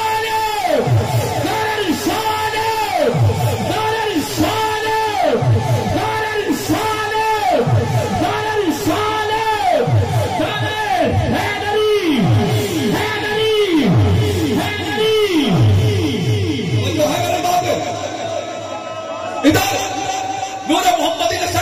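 Large crowd at a religious gathering shouting slogans in unison, loud repeated chant-and-response calls in a steady rhythm that fill the whole span.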